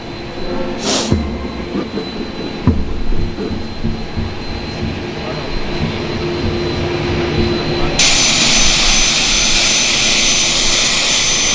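A jet aircraft engine roars on the airport tarmac in Niamey, a loud, steady whine and rumble that swells and brightens sharply near the end, close and continuous.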